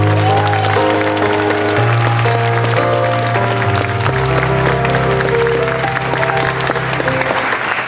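Loud, sustained audience applause, dense clapping that carries on with a tonal musical backdrop underneath.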